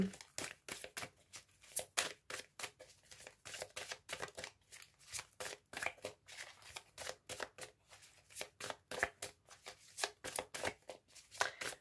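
Tarot cards shuffled for a reading make a quick, close, continuous flutter of papery riffles and slaps in a fast irregular rhythm, moderately quiet and heard alone.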